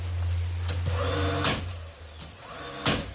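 A DeWalt angle nailer fires in a garage during a Safeway Model 66 garage door install, giving two sharp pneumatic bangs over a steady compressor-like hum.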